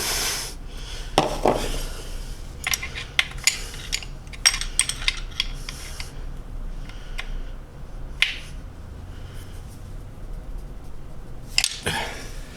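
A 13 mm wrench works a stripped oil drain bolt on a Mini Cooper S, giving scattered metallic clicks, taps and scrapes at close range over a low, steady background, with no one talking.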